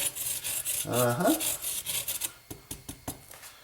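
Lemon zest is grated on a commercial grater, brisk scraping strokes close by; a short voice-like hum comes early, then sharper separate rasps and clicks toward the end.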